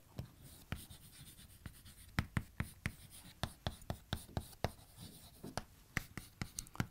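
Pen strokes scratching across paper as an accounting journal entry is written out, a quick irregular run of sharp taps and scrapes, close and clear with no talk.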